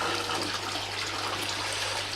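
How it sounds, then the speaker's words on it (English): An aquaponics bell siphon draining a grow bed beside a fish tank, giving a continuous broadband gush and rush of falling water, close and steady, with a low hum running underneath. "Let's turn that off because the bell siphon started now."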